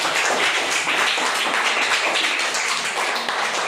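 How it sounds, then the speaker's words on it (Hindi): A group of children clapping during a quiz game, dense rapid claps packed into a continuous loud burst that holds steady from start to finish with no talk over it. "तालियां बजाओ"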